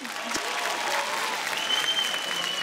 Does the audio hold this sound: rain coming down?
no